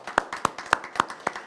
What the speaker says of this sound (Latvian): Aplausi arī Sandrai, kamēr Sandra nāk.